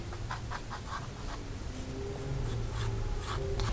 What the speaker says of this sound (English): So I'm going to draw a building